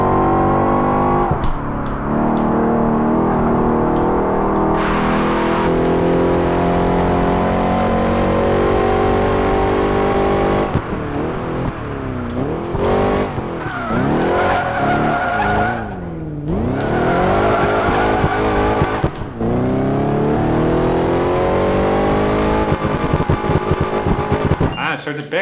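A race car in Project Gotham Racing 4 revs hard with rising and falling engine sweeps, tire squeal and sharp cracks from backfire near the rev limiter, all loud and continuous, with a voice talking over the engine.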